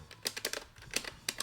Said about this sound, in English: you just press the A button